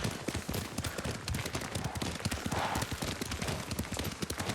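Horse hooves clop in a fast, steady galloping rhythm while riding in Ghost of Tsushima, close and prominent, with faint game ambience underneath.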